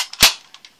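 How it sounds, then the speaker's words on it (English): A Nerf Dart Tag Sharp Shot blaster with a blue trigger fires a dart in one sharp, close snap, followed by a few faint clicks and rattles that die away quickly. "put it in the barrel, prime it."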